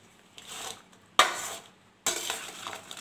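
Mango pickle ingredients are mixed by hand with whole black cumin, giving three short bursts of scraping and stirring against a pot or bowl. The strokes are close and separated by brief pauses.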